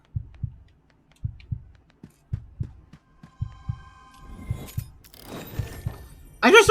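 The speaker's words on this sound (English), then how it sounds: "Now I can hear my heartbeat." Heartbeat effect from the video game Brew, a steady run of low, thumping double beats, fairly loud, then fading under a rising wash of game sounds and a sharp burst at the end.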